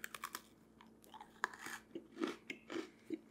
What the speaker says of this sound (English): but I'm gonna bite into the full thing